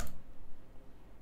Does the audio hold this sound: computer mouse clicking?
yes